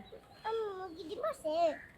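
A chicken clucks and calls in a few short, rising bursts, fairly faint, with soft background noise between the calls.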